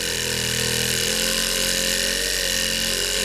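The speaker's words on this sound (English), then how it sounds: "these little buffers from Harbor Freight, wonderful" A small Harbor Freight bench buffer polishes cured clear-coated carbon fiber Bimota motorcycle parts, giving a loud, close, steady motor whine with a constant droning hum throughout and no talking.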